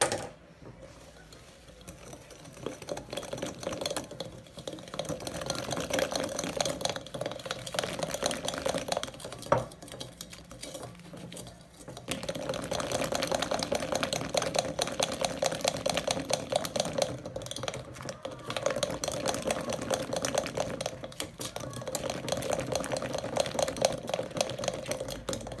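Chocolate cake batter with sifted flour being stirred in a bowl, a steady close scraping and whisking texture that runs continuously with one brief pause, no talking.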